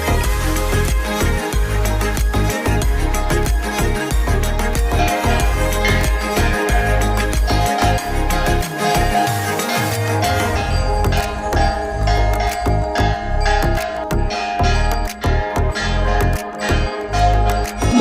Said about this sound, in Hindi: और आप लोगों को पूजा का आवाज़ यहाँ पर सुनाई दे रहा होगा।